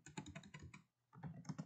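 Quiet bursts of typing on a computer keyboard, a rapid run of clicks that stops briefly before another flurry of keystrokes resumes, close and fairly soft.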